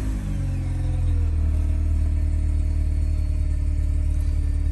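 A Mazda RX8 rotary engine catches after cranking and settles into a loud, steady idle that stays close and continuous with no voices.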